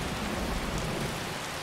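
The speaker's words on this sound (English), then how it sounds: "you seem to like the rain" Heavy rain hisses across a Skyrim Special Edition game world with a deep rumble of thunder underneath, a dense, loud, unbroken wash of storm noise with no voices.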